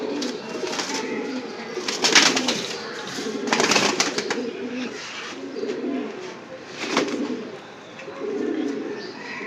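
Several pigeons of the Pankhi breed coo in low, rolling phrases that recur steadily throughout, fairly close and layered over one another, with occasional brief rustles or flaps breaking in.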